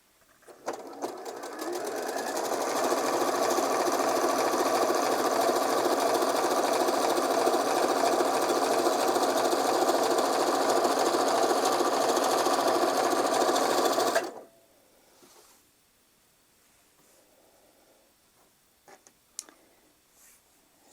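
A sewing machine stitches a stars-and-stripes quilt along a sewn guide line, whirring steadily and loudly for about twelve seconds before stopping abruptly, leaving a quiet room with a few faint clicks.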